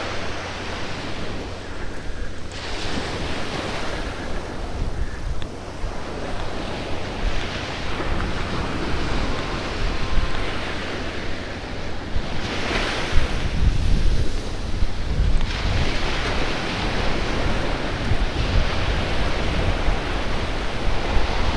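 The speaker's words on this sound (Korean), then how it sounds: "아, 파도가 많이 이제 밀려나갔네요" Ocean surf breaking on a beach, a continuous broad wash of waves with strong wind rumble on the microphone, swelling louder in surges; no talk.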